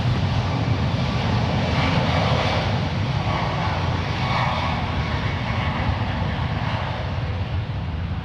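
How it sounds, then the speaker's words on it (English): Air Canada Boeing 737 MAX 8, three years old, departing San Francisco International Airport for Vancouver: a loud, steady jet engine roar with broadband rumble, sustained and unbroken throughout, with no talk. "On 1 right, we have Air Canada Flight 565 departing to Vancouver. It's a 3-year-old 737 MAX 8."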